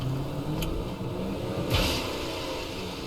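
A battered car in a video game churns and strains with a rough mid-pitched engine whir, steady and close, punctuated by a couple of brief clattering bursts. No talk.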